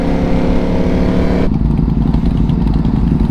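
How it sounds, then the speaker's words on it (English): Ducati motorcycle engine running close by, a loud continuous throbbing rumble at steady idle that shifts to a lower, rougher tone halfway through. "everybody does like this Ducati"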